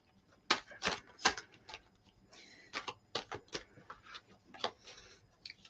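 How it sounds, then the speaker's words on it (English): Tarot-style reading cards being given a thorough shuffle, a string of quick, crisp card snaps and riffles in uneven bursts, fairly close and alone with no talking. "let's give them a really good shuffle"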